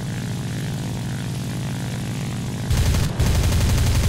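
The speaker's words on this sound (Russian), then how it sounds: "Самолеты летят, народ." A steady propeller drone of aircraft engines in War Thunder fills the clip, swelling louder near the end with a brief dip.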